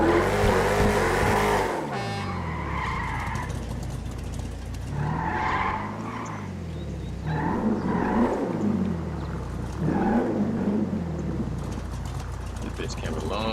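A lifted donk truck in a street-racing video game revs hard, its engine note climbing and dropping in repeated sweeps as it shifts up through the gears, loud and close, with a voice talking over it.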